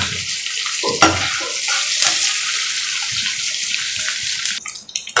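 Cashews frying in hot oil for a tempering with a pinch of asafoetida, as part of a rice pongal; a steady, bright sizzle with occasional stirring clinks and scrapes, close and continuous, no voices.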